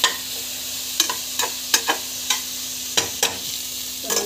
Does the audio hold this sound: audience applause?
no